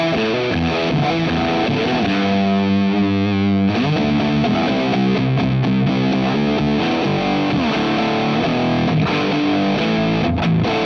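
An electric guitar played through a JHS Ruby Red pedal with the boost turned fully up, giving loud, gritty, distorted sustained chords and notes that ring continuously, alone without talk.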